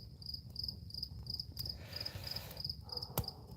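Crickets chirping outdoors at night beside a crackling fire, faint high pulsing trills repeating steadily in the distance, with a sharp pop near the end.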